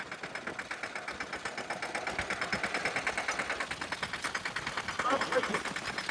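Tractor engine running during sowing, a steady close-range mechanical chugging with a fast, even pulsing rhythm that holds throughout at moderate loudness, with no clear talk over it.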